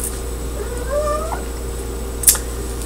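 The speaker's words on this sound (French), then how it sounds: "le chat qui joue en ce moment" A cat meows while playing indoors, a single drawn-out rising and falling call near the middle, followed by a brief sharp click, with steady low background hum and no talking.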